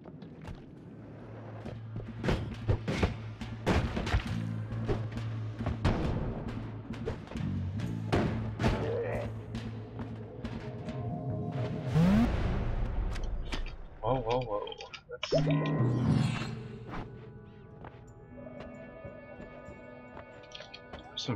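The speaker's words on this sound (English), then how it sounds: "Some fireworks back there." Bursts of fireworks explosions in the video game Noita crackle and thump repeatedly over about twenty seconds, mixed with other game effects while a person talks throughout.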